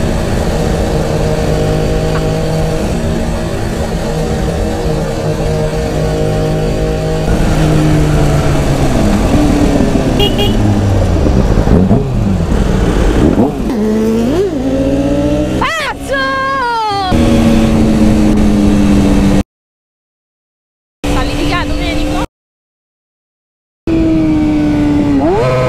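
Kawasaki ZX-6R motorcycle engine arriving at a rally: a loud, sustained four-cylinder drone with rising and falling revs and sharp throttle blips, broken by brief dropouts near the end.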